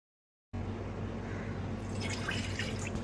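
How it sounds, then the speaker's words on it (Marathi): Water is poured into a cooking pot, a faint trickling and dripping that emerges partway through over a steady low background hum. "पातेल्यात इथे 1 वाटीभर पाणी, त्यात थोडंसं मीठ आणि त्याच वाटीने मोजून दूध आणि चमचाभर साखर मी घालत आहे."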